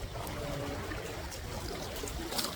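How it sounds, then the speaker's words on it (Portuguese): Sea waves wash over shoreline stones in a continuous, even rush of water, with a faint trickle and fizz throughout. "o barulho dessas ondas e observando o movimento delas"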